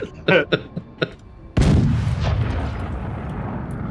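A cannon shot in the video game Forts: a few sharp clicks, then one loud booming blast with a long rumbling decay.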